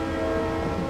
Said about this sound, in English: There is a train going there.